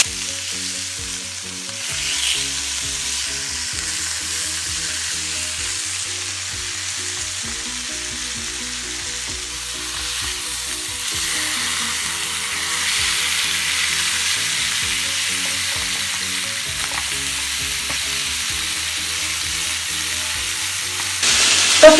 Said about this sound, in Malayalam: ഇപ്പൊ ഫിഷ് ഇങ്ങനെ ഫ്രൈ ചെയ്യുമ്പോൾ